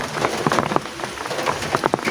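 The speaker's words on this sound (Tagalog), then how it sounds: "Ayan guys, tag-ulan na naman." Heavy rain in a storm pattering and splashing onto a surface close by, with dense irregular drops and spatters in a brief steady burst.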